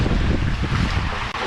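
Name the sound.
wind blowing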